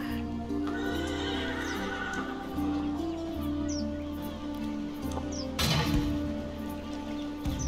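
Horses neigh and whinny amid hoof clip-clop from cavalry units in the battle game Total War: Elysium, set over a continuous dense battle din, with a sharp louder burst near the end.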